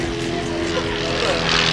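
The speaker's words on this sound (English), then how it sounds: "It's a plane." Propeller airplane droning overhead near an outdoor street car meet, a steady broad engine hum with tonal lines, with crowd talk and street noise throughout.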